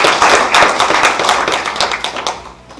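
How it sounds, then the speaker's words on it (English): Audience at a university moot court competition closing ceremony clapping for themselves: dense, steady applause from many hands filling the room, loud at first and tapering slightly toward the end, with no talk over it. "And please, clap for yourselves."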